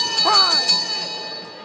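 A ringing bell ends a round at a professional boxing bout, its sustained metallic tones hanging over crowd noise and voices for the whole moment.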